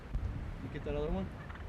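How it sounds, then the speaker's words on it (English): A wild turkey gobbler gobbles once at a distance, a short rattling call rising above light wind and outdoor background noise. "So there's 3 big giant gobblers on my decoy"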